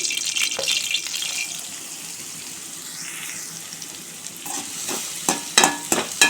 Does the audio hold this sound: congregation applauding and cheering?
no